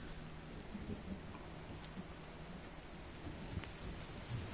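Rain in the survival video game The Forest, a steady, soft hiss of falling rain with a low rumble beneath, fairly faint and continuous with no talking.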